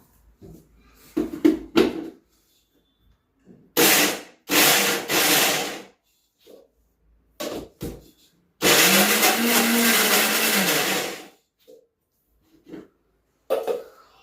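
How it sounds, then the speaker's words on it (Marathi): Raw mango chutney ingredients are coarsely ground in a kitchen mixer grinder, with several loud pulsed bursts of whirring motor and one longer run, separated by quiet gaps with faint handling sounds. "आपण आता हे सगळं मिक्सरला जाडं वाटून घेऊयात"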